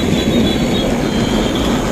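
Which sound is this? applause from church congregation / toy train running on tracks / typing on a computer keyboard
toy train running on tracks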